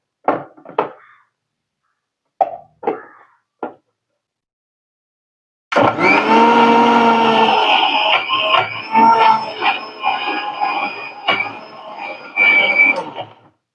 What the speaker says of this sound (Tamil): இப்போ கொஞ்சம் புளியையும் போட்டு அரைச்செடுப்போம்